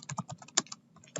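Quick, close, crisp keystrokes tap out a short burst on a computer keyboard, with no voice present.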